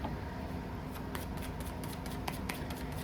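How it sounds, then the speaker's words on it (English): Tarot cards being shuffled by hand, a soft steady riffling with faint crisp flicks and snaps scattered through, quiet and close against low background hum, no voices. "I'm gonna go ahead and shuffle these"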